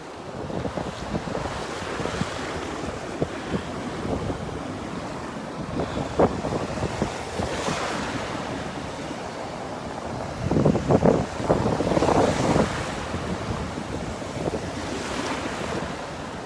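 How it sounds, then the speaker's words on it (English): Ocean surf at Pawleys Island rolls and crashes continuously with heavy wind buffeting the microphone, waves swelling louder in bursts and no voices. "We are in the surf"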